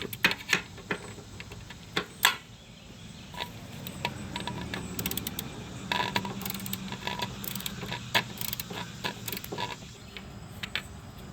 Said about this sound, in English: we're going to start taking these bolts out of the motor mounts here